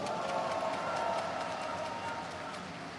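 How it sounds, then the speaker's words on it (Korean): Delegates applaud at a party convention where a new leader of South Korea's Democratic Party is announced, a dense wash of clapping and crowd noise that fades slightly toward the end. "박수를 부탁드립니다."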